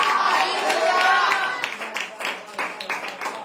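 A church congregation claps together in a burst of rapid, fairly loud applause that thins into scattered claps, with voices mixed in.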